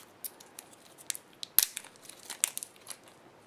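Plastic packaging being worked off a compact BlackBerry USB charger: quiet, scattered crinkles and snips with one sharp crackling snap midway, close and alone.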